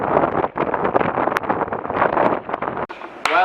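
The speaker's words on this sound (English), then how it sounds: "I was about to do a great handstand out here, but it was a bit too windy" Gusty wind buffets the microphone in rough, uneven bursts by a penthouse pool in Cancun, Mexico, loud and continuous with a few brief drops.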